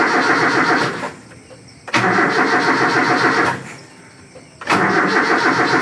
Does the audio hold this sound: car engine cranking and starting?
yes